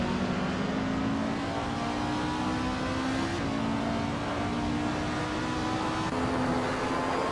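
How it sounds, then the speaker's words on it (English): Race car engines in a racing video game at Atlanta Motor Speedway, one a classic 1973 Porsche Spider, droning steadily as they accelerate off the start line, a continuous rising engine whine with no talk. "the race just kicked off at Atlanta Motor Speedway"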